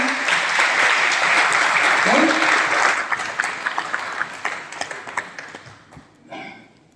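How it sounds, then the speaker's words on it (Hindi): Audience at a business conference in Lucknow applauds loudly, the clapping thinning into separate claps and fading out near the end, with some voices in the room. "तो एक बार और ताली बनती है।"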